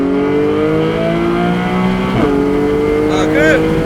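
A Porsche Boxster GTS 4.0 exhaust, fitted with a gasoline particulate filter, drones steadily as the engine revs, the pitch rising and shifting with a brief sharp change midway.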